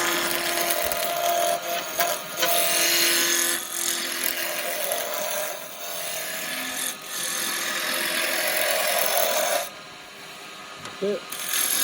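A wooden pen blank spinning on a lathe is rubbed down, a continuous loud hissing friction over the motor's hum with short pauses and shifts in pressure, close up, with a voice briefly under it.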